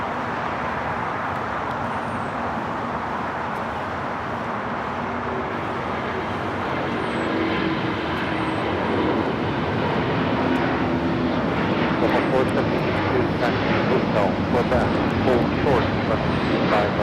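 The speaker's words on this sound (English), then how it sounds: "This is China Airlines Flight 5 taking off to Taipei on the A350-900." A China Airlines Airbus A350-900 takes off from LAX for Taipei, its jet engine roar swelling steadily from distant to louder over the runway, with a voice talking over the noise.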